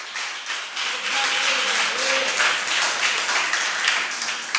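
A church congregation claps together in a steady crowd applause that swells and continues throughout, with no voices.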